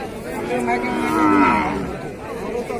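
A cow at a cattle market in Rajshahi moos loudly and close, one long drawn-out low call, with faint crowd chatter in the background.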